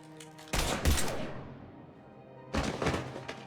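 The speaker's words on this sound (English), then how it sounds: "Now open fire!" Two sharp bursts of rapid gunfire erupt in the Mass Effect 3 video game on the Citadel, each loud volley lasting about half a second, separated by a brief quieter pause.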